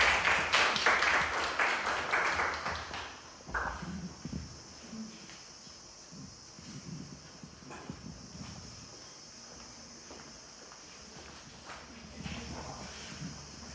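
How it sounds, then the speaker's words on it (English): Scattered applause at a women's entrepreneurship day celebration, a burst of clapping for the panelists that quickly thins to isolated claps and room noise. "Please, let's give them a round of applause."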